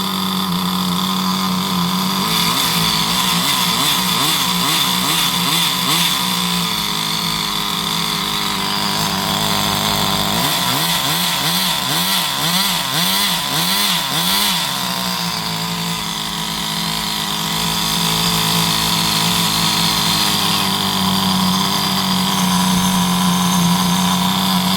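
A gas-powered Compagnucci Super Beetle RC car engine buzzes steadily and loudly, its pitch climbing and dipping in repeated bursts of throttle with a constant high whine underneath.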